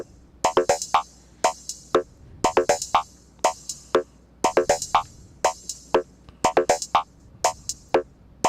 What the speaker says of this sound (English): the reverb from the cymbal